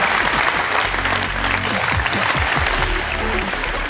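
A crowd at a youth volleyball competition claps loudly and continuously for the volunteers, a dense, sustained roar of hands with faint voices underneath.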